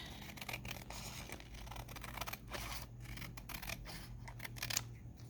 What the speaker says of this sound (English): I'm going to trim these edges a touch